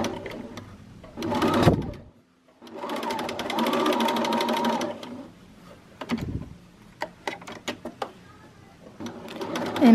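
A sewing machine runs in bursts as it stitches a pleat on a refashioned garment. Its fast, even needle clatter starts and stops several times, and quieter ticks and handling sounds come in between.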